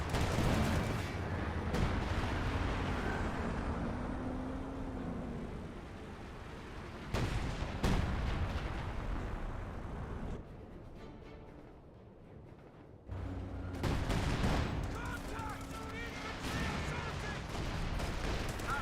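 Artillery barrage in the Company of Heroes 2 video game: heavy shell blasts and gunfire come in loud bursts, thin out into a quieter lull, then surge again, with a voice talking over the fighting.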